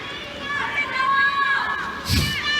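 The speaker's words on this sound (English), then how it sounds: "The crowd's really getting into it" Tennis crowd at the 2023 French Open women's final between Iga Świątek and Karolína Muchová, a busy murmur of many raised voices and shouts that swells into a louder burst of cheering near the end.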